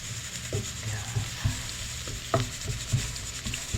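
Garlic sizzles in a pan at the start of cooking beef rib kaldereta, a steady close frying hiss broken by periodic scrapes of a spatula stirring, with no voices.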